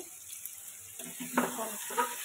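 Fish cooking in mustard oil for a Bengali tel chorchori, a soft steady sizzle in the pan with a couple of brief stirring scrapes near the end.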